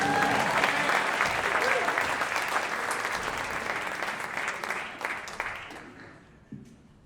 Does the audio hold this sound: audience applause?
yes